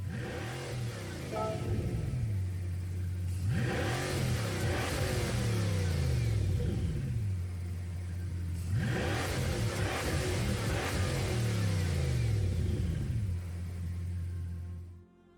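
A Bugatti Chiron engine swapped into a car in Gran Turismo 7 revs hard through repeated climbs and gear shifts, a loud, sustained mechanical roar that rises and drops in waves over about fifteen seconds.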